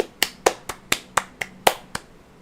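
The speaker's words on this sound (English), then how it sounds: "And now to clap with my hands." Eight sharp, evenly spaced hand claps ring out one at a time at close range in a brisk steady rhythm, with silence between them and a quiet tail after the last.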